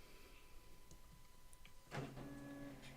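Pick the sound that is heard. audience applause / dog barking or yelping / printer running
printer running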